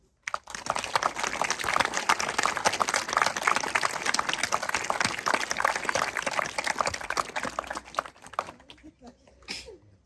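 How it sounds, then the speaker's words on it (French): An audience at a school inauguration claps steadily for about eight seconds in a dense, even patter of many hands, then the applause tapers off quickly. "je crois qu'on peut surtout vous applaudir."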